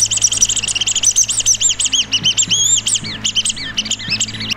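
Pump-driven bird whistle built from recycled materials, imitating a swallow: a continuous run of quick, high warbling chirps and trills, loud and close, over a steady low hum from the pump.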